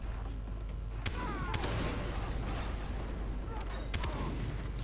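Several gunshots go off in the video game Far Cry 3, sharp cracks that land about a second apart in a short burst over a low, steady rumble of game background noise.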